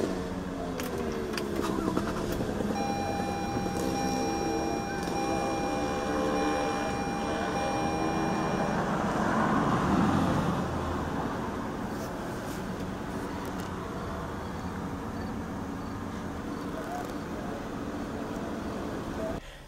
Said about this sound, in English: Put your foot on the brake and hit the button to start.